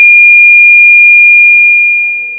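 Loud, steady, high-pitched alarm tone from a laptop in a parliament chamber, sustained unbroken and tapering off slightly at the end, with faint background rustle.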